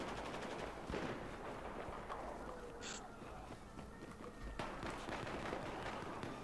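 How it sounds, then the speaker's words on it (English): Gunfire in the shooter game Battlefield 4, heard as scattered mid-distance shots with bursts of rapid fire amid a busy battlefield din, steady and moderately loud throughout. "someone's shooting at me"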